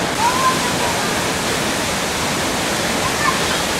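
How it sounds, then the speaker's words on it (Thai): A waterfall roars in a steady, dense, loud rush of water that stays even from start to finish with no breaks. "ที่คุณผู้ชมได้เห็นอยู่ข้างหลังผมนี้นะครับนั่นก็คือน้ำตกหองคูครับ"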